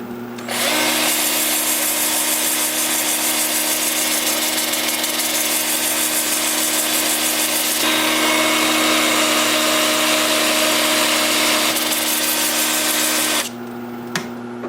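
Power sanding a wooden bowl on a lathe spinning at 400 RPM with an 80 grit disc, a loud steady motor whine with a grinding hiss that shifts slightly partway through and then stops near the end.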